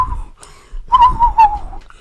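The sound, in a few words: man imitating whistling on a street corner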